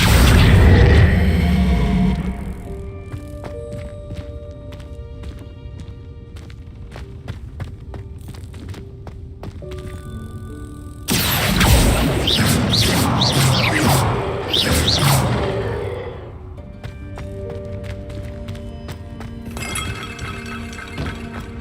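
Confringo spell blasts in Hogwarts Legacy burst out as a loud boom at the start and a longer crashing, shattering explosion midway, with scattered clinks and debris sounds between.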